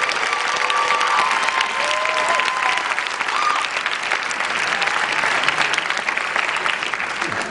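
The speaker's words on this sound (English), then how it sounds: "They deserve a round of applause, Universal, for being so incredible." An audience at a Vin Diesel appearance breaks into dense, sustained applause that fills the room evenly from start to finish, with faint voices mixed into the clapping.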